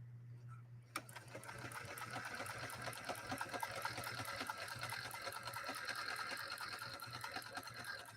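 A Model 110 Featherlight sewing machine stitches roughly three-ounce saddle grade leather without a leather needle, its rapid steady whirring and needle clatter running continuously and close after a sharp start, with a low hum beneath.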